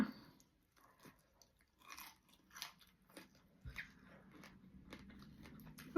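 Fried Thai red sausage being eaten, heard as close, crisp bites followed by soft, irregular chewing and crunching in a quiet room.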